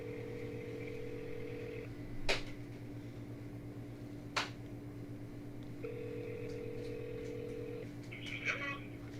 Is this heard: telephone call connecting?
yes